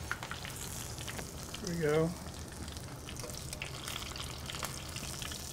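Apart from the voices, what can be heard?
onion rings frying on Santa Maria grill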